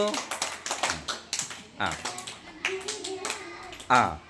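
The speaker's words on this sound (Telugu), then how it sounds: "క్లాప్స్ కొట్టండి అందరూ" Quick, uneven hand claps from a small group of children, mixed with young voices talking over them.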